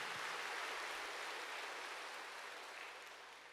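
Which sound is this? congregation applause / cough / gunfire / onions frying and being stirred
congregation applause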